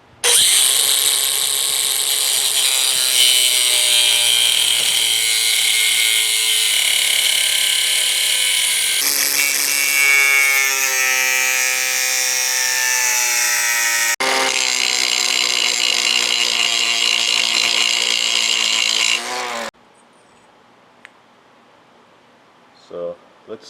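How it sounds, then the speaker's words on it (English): Power grinder grinding down metal during an LS engine swap, a loud continuous high-pitched whine with shifting pitch for about twenty seconds, then it cuts off leaving quiet with a few faint clicks. "So I'm going to go ahead now and just grind this down."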